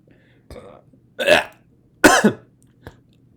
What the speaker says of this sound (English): was like 4 burps and a cough, right?